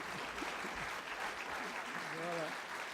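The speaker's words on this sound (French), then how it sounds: "je compte sur vos applaudissements" An audience at a French company's back-to-work event applauds with dense, continuous clapping from start to finish, while a voice speaks over it.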